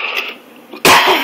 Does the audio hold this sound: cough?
yes